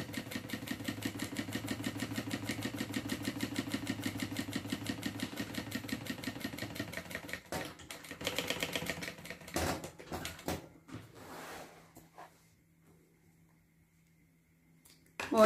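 A sewing machine stitches fabric in a fast, even run of mechanical clatter for several seconds, then slows into irregular bursts and stops, leaving near quiet with faint handling noises.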